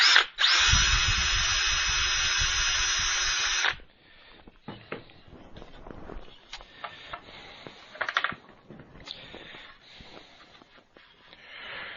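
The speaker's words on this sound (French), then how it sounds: "je perce pour éviter que le bois éclate" A power drill bores a hole through the centre of a thin piece of wood: a loud steady whine for a few seconds, then it stops, followed by scattered clicks, taps and handling noises close by.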